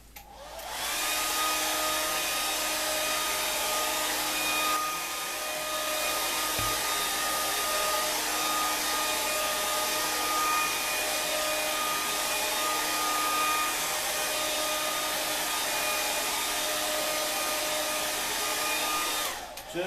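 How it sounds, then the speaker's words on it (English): A blow dryer blows steadily at close range while drying metallic plaster on a wall. The whir is loud and constant for the full duration, with a brief dip near the start and no talk. "to simulate that, I'm going to use a blow dryer"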